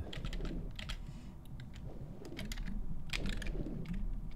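Computer keyboard keys clicking in quick irregular bursts while a Tomb Raider 2 randomizer is played on PC, close and fairly quiet, with no talking.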